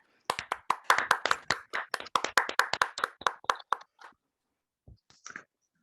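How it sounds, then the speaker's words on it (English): An audience claps for a writer at a Refugee Week showcase, a burst of sharp, close, rapid handclaps that tapers off after about four seconds, followed by a few isolated soft claps. "A big round of applause for Elizabeth."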